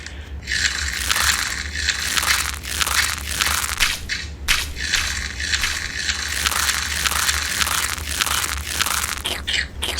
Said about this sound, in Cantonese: 水袋嘅聲音，啫喱嘅好似。